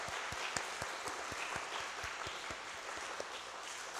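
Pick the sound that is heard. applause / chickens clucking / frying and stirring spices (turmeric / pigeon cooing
applause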